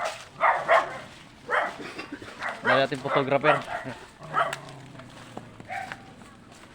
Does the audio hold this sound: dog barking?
yes